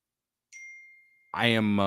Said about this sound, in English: sorry, my phone is going off